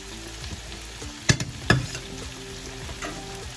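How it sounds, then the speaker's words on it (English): Garlic goes into a pan of softening onions for a Portuguese onion and tomato sauce: a low continuous sizzle broken by two sharp clanks of a utensil against the pan, then steady frying. "Add in your garlic."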